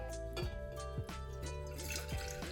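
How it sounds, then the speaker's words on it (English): Turmeric tea, mixed from turmeric-infused water, milk and honey, is poured into a mason jar, giving a steady trickle with repeated dripping splashes over a continuous tonal background. "we're gonna pour it over into our mason jar"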